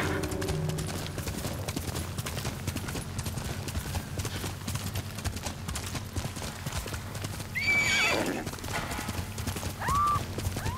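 A horse gallops with rapid rhythmic hoofbeats in the Ghost of Tsushima video game, and near the end it gives loud whinnying neighs over the steady clip-clop and game ambience.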